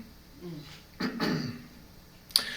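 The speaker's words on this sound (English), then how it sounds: "I'm clearing my throat a lot." A few rough throat-clearing rasps around the middle, close and fairly quiet, followed by a short sharp click near the end.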